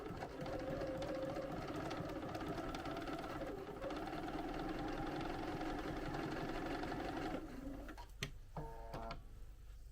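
Sewing machine stitching a Primrose sweatshirt with the needle set left of center, a steady close mechanical whir running continuously, then slowing into a few separate clicks and short bursts at the end.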